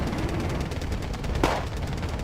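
Dense automatic cannon fire from a Wargame Red Dragon battle, a rapid ragged stream of shots with one sharper burst standing out midway, loud and continuous, no voices.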